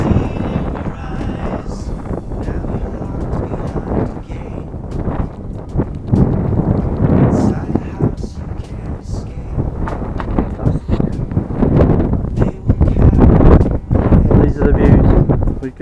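Strong gusting wind buffets the microphone on an open, wet hillside at Ribblehead Viaduct, a loud continuous low roar with surging rumbles throughout.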